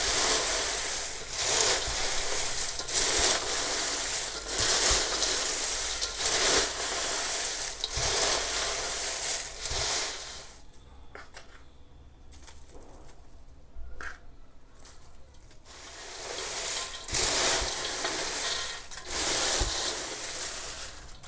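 Cornflakes chevda being stirred to mix in spices: a continuous dry rustling and crunching of flakes, with rhythmic bursts and a quieter pause partway through.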